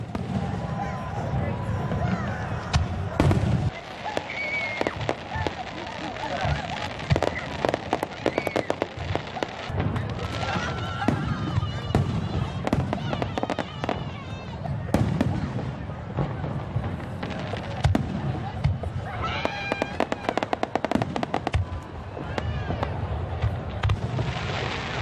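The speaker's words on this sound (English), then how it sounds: "we will give you some of the video that we captured this evening of the fireworks display on the waterfront" A fireworks display on the waterfront crackles and booms in a dense run of sharp bursts and pops, with a crowd of voices talking throughout beneath the explosions.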